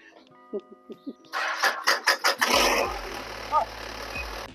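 A snowmobile engine cranks with several quick pulling bursts, then catches and settles into a low, rumbling idle, loud and close, with a voice briefly audible over the starting attempts.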